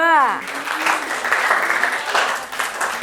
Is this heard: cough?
no